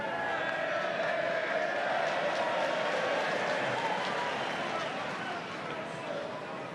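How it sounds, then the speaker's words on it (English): Stadium crowd at a 2013 Rugby League World Cup match between Ireland and Fiji roars in a broad, sustained cheer for the kicking tee carrier, a loud steady wash of voices filling the whole stretch. "It's almost the loudest cheer of the night for the man with the kicking tee"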